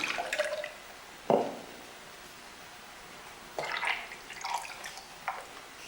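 Liquid glaze pours out of a clay pot in short splashy bursts, a gurgling pour early on followed by a longer trickling, dripping run, close up and fairly quiet with no talking.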